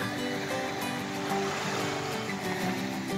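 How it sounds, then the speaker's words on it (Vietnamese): Waves at Quy Nhơn beach at dawn, a continuous soft wash of surf with broad hiss and low rumble, steady and moderately distant. "Đây là bãi biển buổi sáng"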